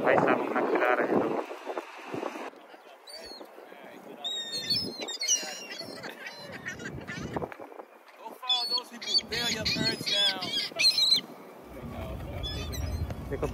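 Birds at a harbour in the USA, including pigeons, sparrows and gulls being fed, give scattered squawks and chirps over wind noise and nearby water, with someone talking through much of it.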